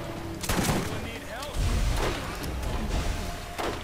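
A grenade blast and bursts of gunfire in the Borderlands shooter game, a couple of heavy booms and scattered shots at moderate loudness, with players' voices talking over the action.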